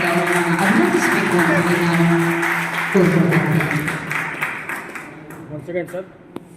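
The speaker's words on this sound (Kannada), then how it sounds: "ಈ ಸರ್ ಅವರಿಗೆ ಒಂದು ಜೋರಾದ ಚಪ್ಪಾಳೆ ಮೂಲಕ" An audience claps loudly for a book release at a literary event in Raichur, with steady applause that swells, carries on for several seconds under a voice, then breaks up into scattered claps and fades.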